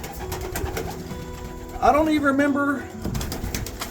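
Pigeons cooing in a coop: one near, clear rolling coo rises and falls in the middle, set against steady coop background noise, with someone talking quietly before and after.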